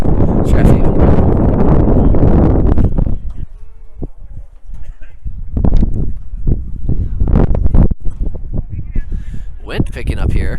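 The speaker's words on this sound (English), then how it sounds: "Wind picking up here" Gusty wind buffets the microphone at an outdoor stadium during a March varsity lacrosse game, with rumbling blasts that come and go while a commentator talks over it.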